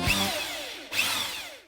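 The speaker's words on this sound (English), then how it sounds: "Next, Mark drills holes in the lamp for the legs to fit through." A power drill bores holes through a lamp salvaged for an upcycling project, two close bursts of whirring with rising and falling pitch as the bit spins up and cuts, no talking.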